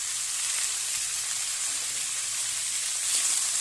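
Chicken momo filling of chopped garlic, chilli and onion with salt, turmeric, cumin, garam masala and coriander powder sizzling steadily in a pan, a close, even frying hiss with no voices.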